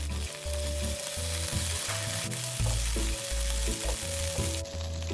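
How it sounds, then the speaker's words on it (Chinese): Minced garlic and chili paste stir-fried in hot oil in a pan, a steady loud sizzle with repeated scraping strokes of the spatula throughout, no voices. "加入1大匙辣椒糊，一起炒香。"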